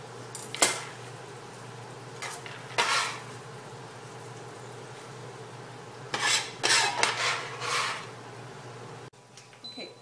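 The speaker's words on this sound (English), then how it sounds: "I'm going to continue to get this into the pot, and then we're going to slowly saute it away." Diced onions, carrots and celery sautéing in a pot, scattered bursts of scraping and rubbing as the vegetables are pushed around, over a faint low sizzle, quiet and close.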